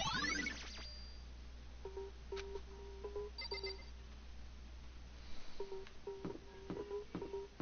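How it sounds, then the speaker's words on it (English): A doorbell in the Danganronpa game chimes in short repeated bright tones, a first run of rings followed by a second burst after a pause, over a steady low hum with no talking. "I pressed the doorbell."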